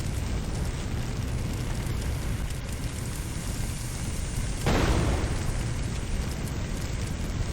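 A dull rushing roar of fire and debris from a burning shed in the video game Firefighting Simulator - The Squad, with a sudden muffled explosive burst partway through that swells the noise before settling back.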